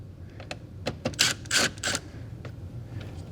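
A power screwdriver backs Phillips screws out of a Lexus GS-F or RC-F grille emblem, whirring in a few short close bursts among small mechanical clicks.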